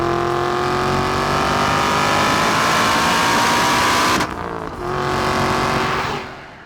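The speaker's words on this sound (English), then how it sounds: "And it mainly is that exhaust note." A cheap supercar built as a grand tourer pulls hard under acceleration, its loud exhaust note climbing steadily in pitch, then a sharp gear change before it rises again and fades toward the end.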